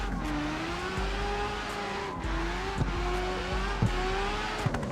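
A car drifts in the racing video game CarX Street, its engine droning and revving steadily with tire squeal as it slides through corners, plus a few sharp thumps, and no talking.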